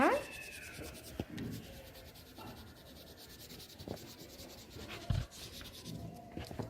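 Light scratchy strokes of a crayon or pencil shading in a drawing of a window at a kids' Bible class, with short rubbing passes and occasional taps on the paper.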